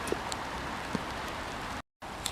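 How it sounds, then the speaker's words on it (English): Steady rain patters softly with occasional louder drips outdoors on the England Coast Path near a railway track, cut by a brief moment of silence. "The rain is getting a little bit more persistent"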